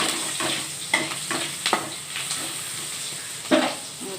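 Pieces of capsicum hiss and crackle in hot oil as a spatula scrapes and taps the pan several times, close and fairly loud.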